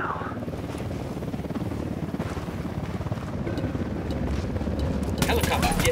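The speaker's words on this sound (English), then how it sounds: "Chopper incoming." Enemy helicopter approaching in the video game Ghost Recon Wildlands: a steady, dense rotor-and-engine drone that grows slightly louder, with people talking over it.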